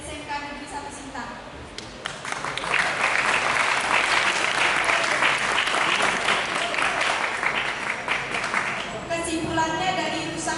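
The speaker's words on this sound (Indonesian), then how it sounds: "Tepuk tangan untuk kita semua." Students at a school assembly in Sintang break into applause that swells after a couple of seconds into dense, steady clapping, then thins toward the end, with voices faintly under it.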